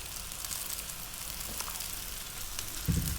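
Cauliflower and broccoli stir-frying over high heat for Indian-style vegetable fried rice, a steady close sizzle and crackle with a brief louder stir near the end.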